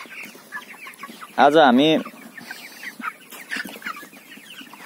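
Broiler chickens at a poultry farm cluck continuously in the background, with one loud, close squawk rising above the flock, while someone talks over them.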